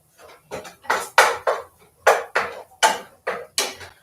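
Metal spoon scraping and knocking inside a pot while stirring a home-cooked Cuban dinner, about eight rhythmic clanking strokes, close and fairly loud with no talk.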